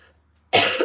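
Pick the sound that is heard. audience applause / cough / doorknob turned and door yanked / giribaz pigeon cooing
cough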